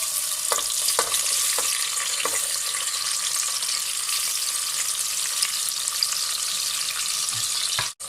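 A large onion frying in hot oil, with a strong, steady sizzle up close and a few stirring knocks near the start before the sound cuts off sharply at the end.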